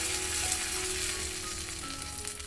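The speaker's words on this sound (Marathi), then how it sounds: "आपण ह्या चटणीला सिंपल फोडणी असं घालून घेऊयात" Hot oil sizzles and crackles continuously as cumin, mustard seeds, curry leaves and asafoetida splutter in it, a bright close hiss with no voices.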